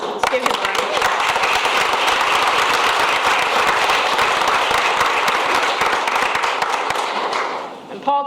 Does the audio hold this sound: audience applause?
yes